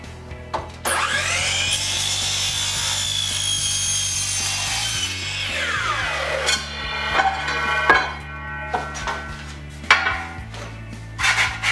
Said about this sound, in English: Now you got to cut the track to length.